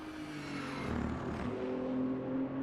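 Green Toyota Supra GT4 in Assetto Corsa at night, its engine a steady droning hum that rises slightly in pitch as it pulls, heard alone at moderate distance.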